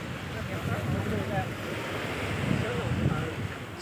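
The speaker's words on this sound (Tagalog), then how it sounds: "Super alon." Sea waves washing in at night along the Kennedy Town seaside on a windy evening, a steady low surf wash with gentle surges, heard at moderate volume with wind noise over it.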